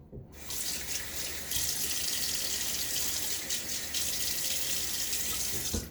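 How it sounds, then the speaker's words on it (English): Tap water runs steadily into a sink for about six seconds as a face is wetted before a wet shave, a close, continuous broadband splash and hiss with no talk. "get my face wet."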